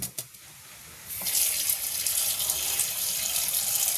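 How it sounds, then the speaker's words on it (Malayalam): Chopped tapioca is washed under a steady, loud gush of running water that fills a basin, after a couple of brief knocks at the start. "ഇത് നമുക്ക് ഏറെ വെള്ളം ഒഴിച്ച് നന്നായിട്ട് കഴുകിയെടുക്കാം"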